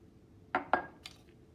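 A spoon stirring a chemical solution taps against a glass container, two sharp clinks in quick succession followed by a fainter scrape, close and quiet.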